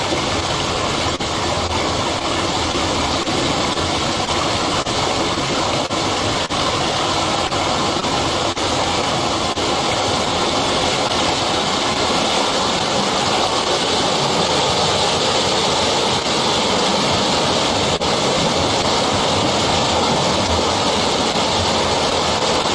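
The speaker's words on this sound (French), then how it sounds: "il y a l'arrivée de la crue qui a été filmée" Flash flood surging down a small canyon stream, a loud steady rushing roar of churning water that continues unbroken throughout, no voices.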